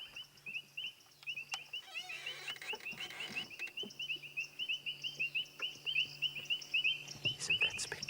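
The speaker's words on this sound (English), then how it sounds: "we can just listen to the beautiful sounds of these painted reed frogs." Painted reed frogs calling at sunset on an African safari, a dense chorus of rapid, high metallic chirps repeating steadily over several seconds, with faint background insects and occasional low clicks.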